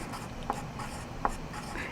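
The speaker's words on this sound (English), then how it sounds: "So I'm going to write my name up on the top." A pencil writes a name on a worksheet with quick scratchy strokes and a few sharper taps as it meets the paper, close and clear, with no voices.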